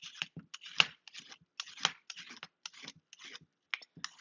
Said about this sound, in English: So I just peel it